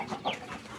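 A rooster clucks in short bursts, fairly close, with a brief higher squawk partway through; no one speaks.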